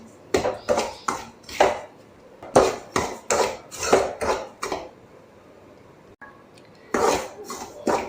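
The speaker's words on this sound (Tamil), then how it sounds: "கைவிடாமல் ஃப்ரை பண்ணிகிட்டே இருக்கணும்" Semolina (rava) roasting in a pan for rava laddu, stirred in steady rhythmic scraping strokes, about a dozen close together, then a brief pause before more stirring.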